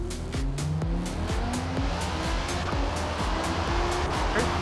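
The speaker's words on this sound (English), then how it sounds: "I seem to have gotten the back end just a little too loose and just spun it around." A race car at Le Mans in a racing video game loses its rear end and spins around, its engine droning steadily while short tire chirps and squeals repeat through the moderately loud, continuous roar.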